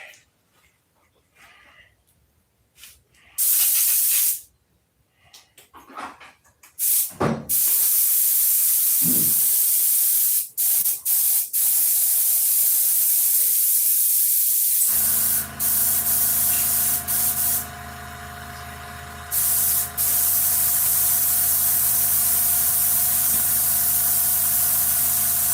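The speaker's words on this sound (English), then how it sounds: "Let me run some thinner through the airbrush." A thinner-filled airbrush sprays in a long, steady, close hiss with a couple of short breaks, following a few quiet seconds of faint shuffling and brief spurts.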